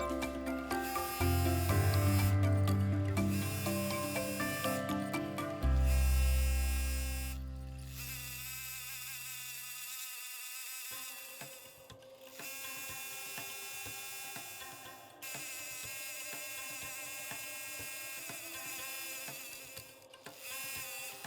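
A computerized embroidery machine runs a tack-down stitch on a fabric panel for a Valentine pocket heart, giving a steady close mechanical buzz and rapid needle chatter that shifts in pitch partway through and continues alone without talk.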